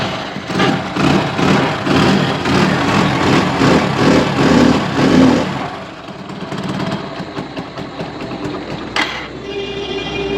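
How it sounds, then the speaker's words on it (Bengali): A second-hand motorcycle in a showroom fires up and runs with a fast, even mechanical chatter for several seconds, then drops to a quieter, steadier idle. "প্রত্যেকটা গাড়ি স্টার্ট করেও দেখিয়ে দিচ্ছি।"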